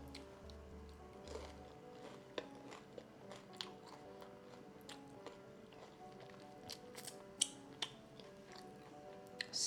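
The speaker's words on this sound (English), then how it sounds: "I hope you guys could hear the crunch of the dosa like through this mic" Crisp multigrain dosa with chutney is chewed close to the microphone, giving soft, irregular crunches and bites that are quiet against a still background, with a low hum at the start.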